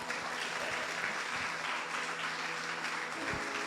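Church congregation applauds during an IVEC Church sermon, a soft, even patter of clapping heard from a distance with a faint low hum beneath and a few scattered louder claps.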